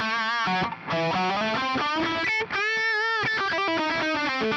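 Electric guitar played clean through a Tonex unit with reverb, delay and chorus switched off, ringing sustained notes and chords in a steady melodic phrase, close and fairly loud with no voices.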